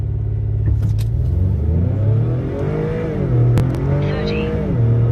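An Acura TL accelerating hard during a quarter-mile run, its engine droning steadily and rising in pitch through the gears, with a brief shift dip midway, loud and close throughout.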